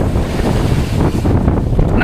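Rough sea waves and strong wind buffet a small boat on an open Pacific crossing, a loud, continuous roaring wash with heavy wind noise on the microphone and no voices.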